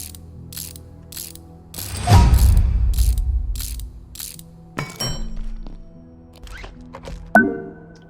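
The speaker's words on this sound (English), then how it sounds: "Throw down the workbench here." A workbench is placed in the video game Abiotic Factor, with a run of regular ratcheting clicks followed by a heavy thunk and rumble. Several sharper mechanical clunks come after, close and with no talk.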